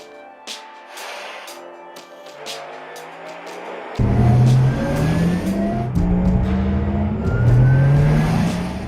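Porsche Taycan Turbo electric car driving, its synthetic drive sound a rising whine and hum that swells sharply louder partway through as the car accelerates, with tonal sweeps climbing in pitch.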